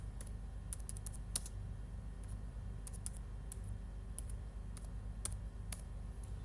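Keys clacking steadily on a computer keyboard while Java code is typed, irregular bursts of sharp clicks over a low steady hum, close and fairly quiet.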